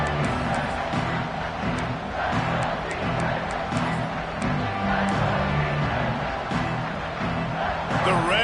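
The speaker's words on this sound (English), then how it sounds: "The Red Raider crowd rising to the occasion to help its defense on 3rd down." A Texas Tech Red Raider football crowd in a stadium roars and cheers steadily as a broadcast announcer talks over the continuous background noise.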